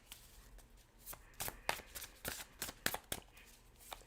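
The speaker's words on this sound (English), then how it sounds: "I know you guys can't see me shuffling, but you can hear it, right?" Tarot cards are shuffled close by in a riffling run of crisp, fluttering slaps and snaps that repeat steadily over a soft background hiss.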